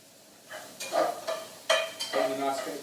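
Onions cooking in a pan for beef Wellington medallions, with soft sizzling and several scraping stirs and clinks of a utensil against the pan, close and moderately loud, no talking.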